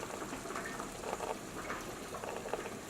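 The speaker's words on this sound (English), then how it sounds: "Once it boils, let it just boil." Spaghetti boiling in a pot of water, a steady low bubbling patter that keeps up without a break, quiet and close, with no voices over it.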